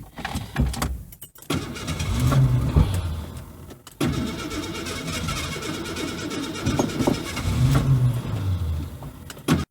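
An old Ford Ranger truck, started for the first time in six years, runs and revs in a field, its engine loud and uneven with surging bursts and a couple of brief drops.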